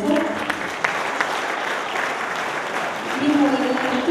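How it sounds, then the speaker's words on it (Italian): An audience applauds steadily, a dense wash of clapping that swells slightly toward the end, with a voice faintly underneath. "Nino Bellomo, che è anche qui presente, un applauso."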